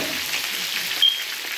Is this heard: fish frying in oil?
yes